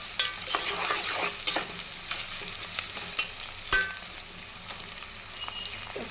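Food frying in a pan, browning until reddish, with a continuous close sizzle broken by frequent scraping stirs and a few sharp utensil clicks.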